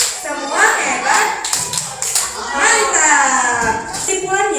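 Children in a primary school classroom perform a rhythmic patterned clap, several sharp clap bursts in sequence, close and loud, mixed with kids' voices chanting along.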